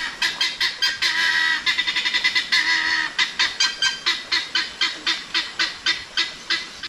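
Domestic geese honk loudly in a fast, busy chorus at first, then settle into a steady series of separate, evenly spaced honks.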